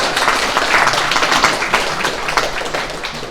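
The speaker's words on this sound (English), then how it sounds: "Round of applause, guys." A close, lively round of applause from a small crowd greeting a guest, an NHL hockey player, at a UFC Ottawa fan event: brisk, uneven clapping that stays loud before easing slightly at the end.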